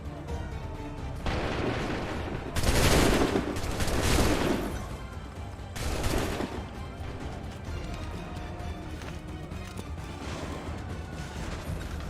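Massed gunfire from a battle in the video game Assassin's Creed III: loud, dense volleys in three bursts, the longest lasting about two seconds, over a constant rumbling battlefield din.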